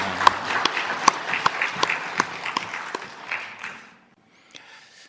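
A church congregation claps together, a lively burst with a few sharp, close claps standing out, dying away into near silence toward the end.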